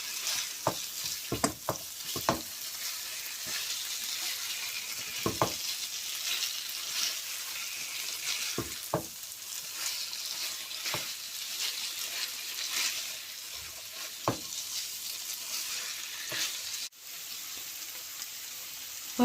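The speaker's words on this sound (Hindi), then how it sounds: "अभी इस मसाले में हम 4 से 5 मिनट तक ऐसे भून लेंगे" Chicken tikka masala sizzles steadily as it fries in its spice paste, with a constant bright hiss, scattered knocks and scrapes of a stirring spoon, and a brief splashy pause near the end.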